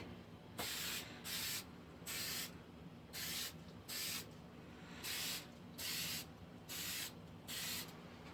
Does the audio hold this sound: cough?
no